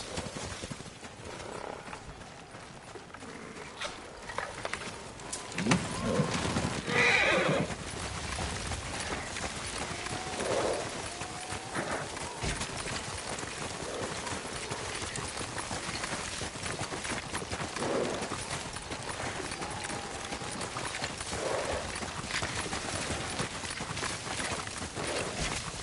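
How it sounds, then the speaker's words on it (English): Horse hooves in the video game Ghost of Tsushima, set in feudal Japan: steady rhythmic clip-clop of galloping running throughout over a dense wash of ambient noise, with one brief higher cry that may be a neigh. "Horse!"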